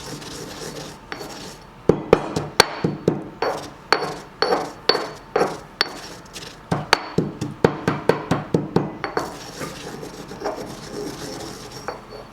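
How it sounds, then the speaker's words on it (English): Shawarma spice seeds being pounded and ground to powder, a steady series of sharp, close knocks and rasping crunches repeating in an uneven rhythm throughout, with no talking. "You just want to grind it to a powder."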